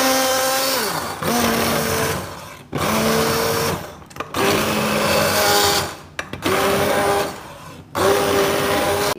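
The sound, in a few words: hand beater mixing beef haleem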